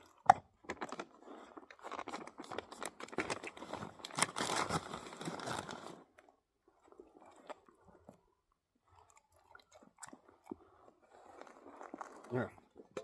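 A dog eagerly chews and crunches on gas station jerky, with rapid wet bites and tearing noises up close, bursts of chewing separated by quiet gaps, while a person talks to it.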